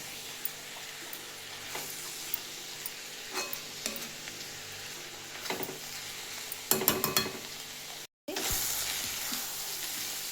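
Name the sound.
masala and coriander frying in oil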